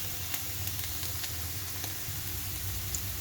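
Carrots and potatoes frying in a pan give a steady, close sizzle with faint crackles and occasional light ticks throughout, no voices.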